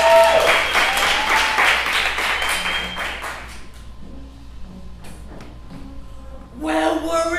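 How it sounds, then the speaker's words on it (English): A burst of applause and clapping fills the first few seconds, then fades as voices and music take over near the end. "Please give them a round of applause."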